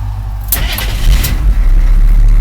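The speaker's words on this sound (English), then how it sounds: "And it starts up." An army truck engine, started without a key, cranks briefly and then catches, settling into a loud, close, rumbling idle.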